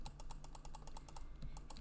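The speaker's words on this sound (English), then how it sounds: "I'm just clicking with my index finger on the alt and then" Rapid clicking of a computer keyboard's alt key pressed with an index finger alongside mouse clicks while retouching photos, a steady run of close, crisp taps with no talking.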